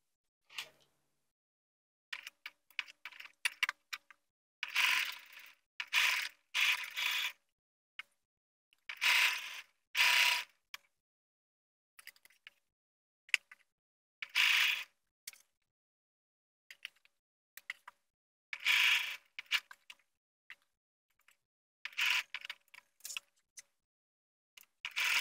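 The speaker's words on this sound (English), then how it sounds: "I'm going to sew along this line I just drew" A sewing machine stitches a zipper onto a lower leg pattern piece in short bursts of rapid mechanical clatter separated by quiet pauses, close and clear with no talking.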